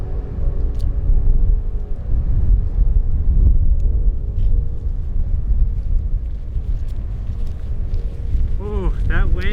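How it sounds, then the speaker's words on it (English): Strong, steady wind roars and buffets across a freezing mountaintop on Roan Mountain, North Carolina, filling the whole stretch with low rumbling gusts and a few faint clicks near the end. "that wind is rough."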